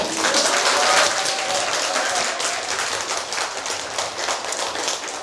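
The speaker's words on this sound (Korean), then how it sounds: "다시 한번 박수 주세요" Sustained applause from an audience at a university counseling psychology special lecture, dense clapping of many hands at an even level for the whole stretch, with little talk.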